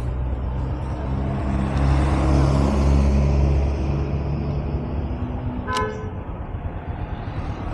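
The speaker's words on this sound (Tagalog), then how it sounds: "Ayos yung busina mo pre ah." A motorcycle horn gives a short, clear toot over the steady rumble of a ride along a road near Tagaytay, standing out once against the constant engine and wind noise.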